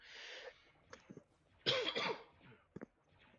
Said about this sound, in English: I didn't want to cough straight into the mic there.